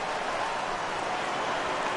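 Rain in a baseball video game, a steady even hiss of rainfall with no breaks or talk, moderately loud throughout.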